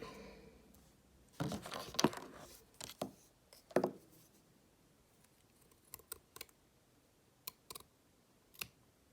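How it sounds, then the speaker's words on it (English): Scissors cut a paper decal printed on regular printer paper for a custom Lego figure, giving scattered sharp snips and clicks in short clusters with pauses between, close and fairly quiet. "So I'm just going to do a little bit more cutting on it."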